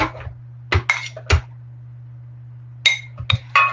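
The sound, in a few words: cooked azuki beans being strained and put into a blender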